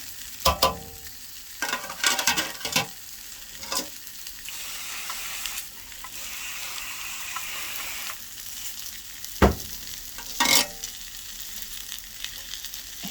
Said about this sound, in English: I can smell the dried fish cooking now